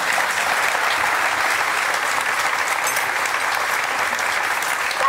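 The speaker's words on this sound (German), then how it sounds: "begrüßen jetzt mit einem donnernden Applaus" A studio audience on a German TV cooking show gives loud, thunderous applause, dense and sustained clapping from many people filling the whole stretch without pause.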